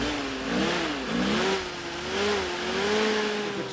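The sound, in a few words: Jeep engine starting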